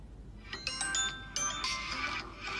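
A phone ringtone chimes repeatedly, a bright melodic tone sounding several times against a faint background hum.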